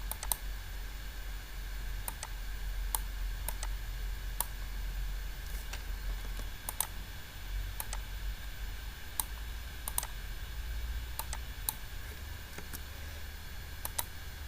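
Computer keyboard keys clicking in sharp, irregular taps over a steady low hum, including an Enter key press, with scattered isolated strokes rather than fast continuous typing.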